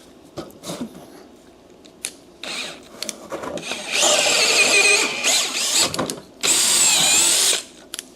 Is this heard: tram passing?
no